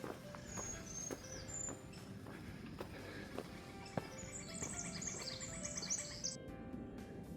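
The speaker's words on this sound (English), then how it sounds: "Birds are singing." Birds sing throughout a forest park along a fire lane. Several overlapping chirps, trills and whistled calls come from near and far over soft rustling and footstep noise, swelling into a busier burst of song toward the end.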